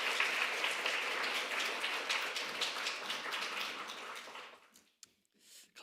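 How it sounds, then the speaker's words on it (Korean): A church congregation applauds to welcome a visiting pastor, a dense burst of clapping from many hands across the room that fades out over about five seconds into near silence. "우리 큰 박수로 우리 이영걸 목사님 환영해 주시면 감사드리겠습니다."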